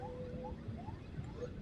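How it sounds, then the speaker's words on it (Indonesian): Ambulance siren wailing in street traffic at a cramped red-light intersection, sweeping up and down steadily over the rumble of engines, moderately distant and continuous throughout. "Ada ambulan"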